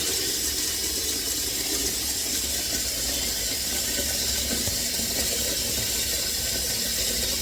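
Tap water gushes steadily into a cooking pot being filled for fettuccine, a continuous close hissing pour with no pauses.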